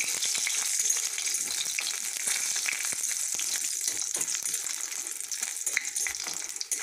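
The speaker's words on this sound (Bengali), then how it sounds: "বড়িগুলো আমি ভালো করে ভেজে নিচ্ছি" Badi lentil dumplings fry in oil with panch phoron and chilies, a moderate, close hissing sizzle with scattered pops and crackles running steadily throughout, no one speaking.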